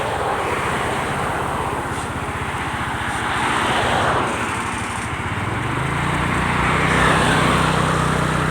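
Motorbike engine droning steadily while riding along a rural road, with the pitch shifting as the bike slows and turns around, loud and close throughout.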